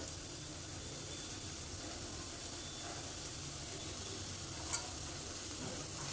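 Broccoli sabzi with fresh coriander being stirred in a hot pan, giving a soft, even, continuous sizzle and hiss with one brief utensil tap near the end.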